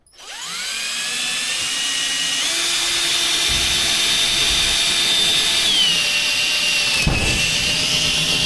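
Power drill whirring steadily as it bores through material, motor pitch rising at spin-up, holding, then dipping as the bit breaks through, with a brief knock near the end; loud and close, no talk.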